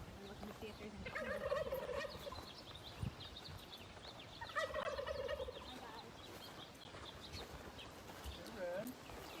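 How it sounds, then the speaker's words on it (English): Turkeys on a home farm, including hens, gobble in two clear bursts at moderate distance, with other soft farmyard noise and quiet background activity between them. "The lady turkeys over there, the moms."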